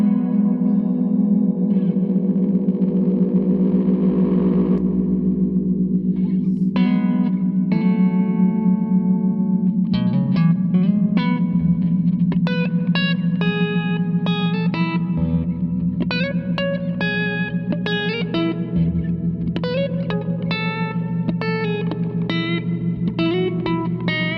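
Electric guitar run through a Zander Circuitry Exosphere reverb pedal, with sustained chords and then picked single notes ringing into long, shimmering reverb tails, played continuously and fairly loud with no talking.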